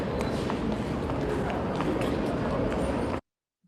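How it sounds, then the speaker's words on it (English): Museum ambience with a dense, continuous wash of rumbling footsteps and echoing movement through a gallery space, steady and fairly loud for about three seconds before cutting to silence. "the ambient noises one typically hears in museums, say the rumbling of footsteps or echoes"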